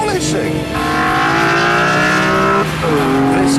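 A BMW M3 CSL engine revs hard on the Isle of Man course, climbing through the gears, a loud rising whine with brief dips at each shift, close and continuous.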